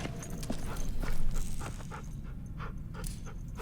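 Dog Rosie in The Walking Dead: The Final Season game pants with quick, steady breaths, close and continuous over a low background rumble, with no talking.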